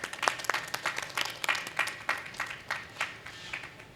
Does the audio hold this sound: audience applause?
yes